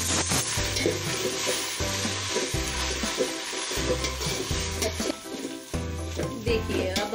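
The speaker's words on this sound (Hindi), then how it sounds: "अब हम इसमें अदरक लहसुन का पेस्ट डालेंगे।" Ginger garlic paste added to light-brown onions frying in a pot for mutton tahari, a steady sizzle with spoon stirring and scraping against the pot, close and moderately loud, no talk.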